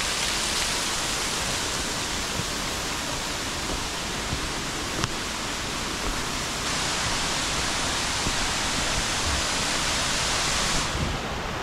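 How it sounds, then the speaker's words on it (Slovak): Banyumala waterfall in Bali roars as a loud, dense, unbroken rush of falling water, close and steady for the whole stretch with no voices over it. "vodopád Baniumala."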